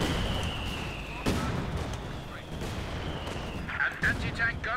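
In Company of Heroes 2, an artillery barrage rumbles through a busy 4v4 battlefield, with sharp cracks and dull booms over a constant low roar and a voice talking underneath.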